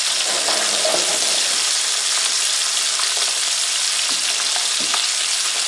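Chicken thighs frying skin side down in a pan over medium-high heat, a loud, dense, continuous sizzle crackling steadily throughout, close up, with no voices.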